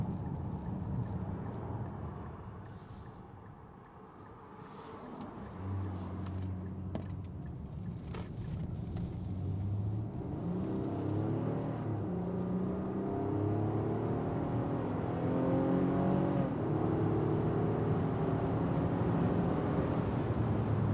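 A 2022 Infiniti QX60 Autograph AWD accelerating onto a highway, heard from inside the cabin: a muffled engine hum rising through stepped gear changes under steady road and wind noise.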